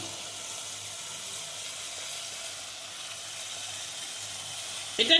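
Spiced masala paste frying in oil for begun sundari, a vegetarian eggplant curry, giving a steady close sizzle that holds evenly throughout, with a brief clatter of a utensil at the very end.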